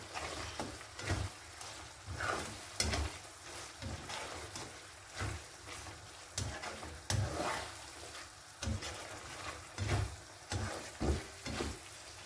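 A spoon turns salmon pasta in cream in a pan with rhythmic, irregular scrapes and clacks against the metal, each stroke followed by a faint wet sizzle; quiet and close.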